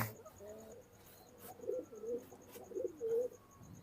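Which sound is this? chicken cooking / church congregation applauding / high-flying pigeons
high-flying pigeons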